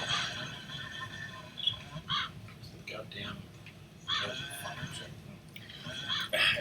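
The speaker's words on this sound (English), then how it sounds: "the wonderful bird noises from the first game" Cawing, crow-like bird calls from a video game come in repeated short bursts over a steady background, with people talking alongside them.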